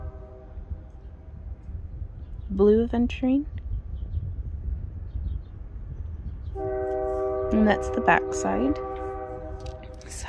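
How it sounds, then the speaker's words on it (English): A train rumbles steadily past outdoors, sounding a short horn blast and later a longer sustained horn, while a person talks over the noise. "Sorry for the train, that's just how it goes."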